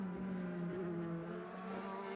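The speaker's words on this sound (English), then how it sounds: "I love listening to the roar of these engines." DTM classic race cars in a racing video game, steady layered engine roar with sustained harmonic tones held at high revs throughout, continuous and fairly loud with no talk.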